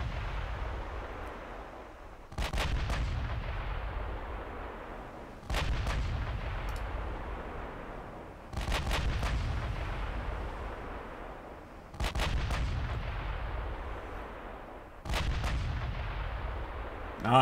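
Heavy battleship artillery in a Japanese dreadnought naval combat game booms out in five loud, evenly spaced salvos, each sharp crack trailing into a long rumbling decay, with no talk.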